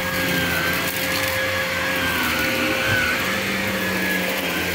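A vacuum cleaner runs inside an RV trailer, a steady, loud, continuous whine and roar with a faint shifting tone, alone and without talking.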